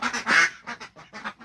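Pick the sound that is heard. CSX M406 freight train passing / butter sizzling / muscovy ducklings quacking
muscovy ducklings quacking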